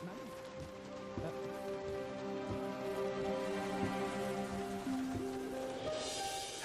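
Soft rain patters steadily under a musical score with sustained tones and bass hits, the downpour faint and continuous throughout.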